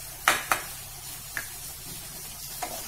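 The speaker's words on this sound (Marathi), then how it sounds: "एक मिनिटभर आपण हे सर्व मसाले चांगले तेल सुटेपर्यंत परतून घेऊया" Spices fry in oil for paneer bhurji with a low steady sizzle, punctuated by a few sharp scraping stirs of a spoon against the pan.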